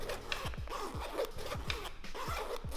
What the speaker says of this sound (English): Let me get the zippers open.